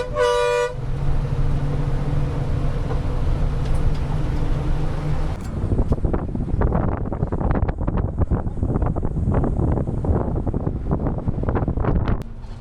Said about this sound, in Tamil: எந்த நேரத்துலையும் வந்துட்டு ஹார்ன் அடிச்சுக்கிட்டே தான் வந்து பேருந்தை இயக்கிட்டு இருப்பாங்க